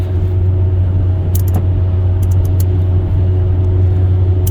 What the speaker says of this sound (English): There's a little bit of traffic coming, but that's okay.